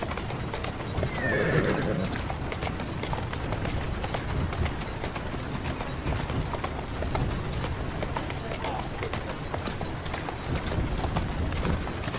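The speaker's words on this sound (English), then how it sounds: "Who's a good horse?" Hooves clip-clop in a fast galloping rhythm with a horse whinnying early on, continuous and fairly close over a steady background, in the video game Assassin's Creed Syndicate.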